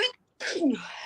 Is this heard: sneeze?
yes